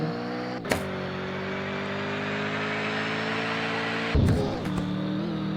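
A BMW sedan's engine in a mobile driving game hums at a steady, even drone, with a short rising rev near the start and a brief burst of revving and bumps near the end; no one speaks.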